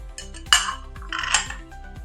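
Flour-coated dry fruit is folded gently into orange cake batter, with a spoon knocking and clinking against the bowl in a few soft, close strikes amid quiet scraping.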